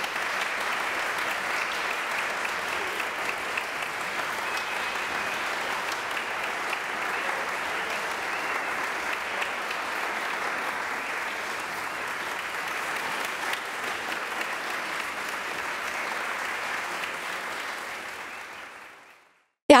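An audience at the Teatro Municipal in São Paulo applauds a string quartet after Beethoven, a dense, even wash of clapping that holds steady for nearly twenty seconds before fading out.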